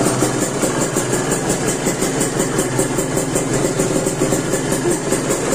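A motorcycle engine, freshly washed, idles steadily while warming up, a continuous even rumble close by with no talk.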